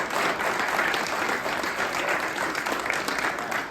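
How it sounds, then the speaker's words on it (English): A theater audience on opening night applauds steadily, a dense, loud wash of clapping hands that holds without a break throughout. "can we get one more round of applause?"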